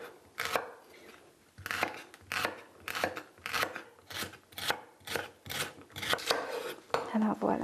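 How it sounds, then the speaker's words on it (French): Knife chopping through celery stalks on a cutting board, sliced diagonally for a rainbow vegetable and tofu stir-fry: about a dozen crisp, close strikes in a steady rhythm with short pauses. "Les branches de céleri seront également tranchées. Si on veut de plus gros morceaux, on peut les trancher un peu à la diagonale."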